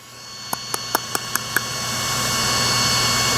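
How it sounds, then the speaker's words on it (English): Brushless motor shaft of an Oracle Red Bull Racing F1 RC car rubbing against the rear differential: six quick sharp ticks close together, then a steadily rising whirring whine that keeps building, with no talk. "it looks like what's happening is the shaft on the motor is making contact to the rear diff"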